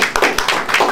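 A short burst of applause, several hands clapping in an uneven patter, close and lively.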